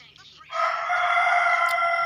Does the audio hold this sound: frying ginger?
no